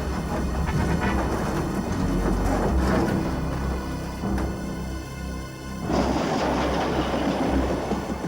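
A model steam train, from a 1989 children's series about tugboats, rumbles steadily along rails toward an accident-weakened bridge, a loud continuous rolling roar with a brief surge and shift near the end and no talk.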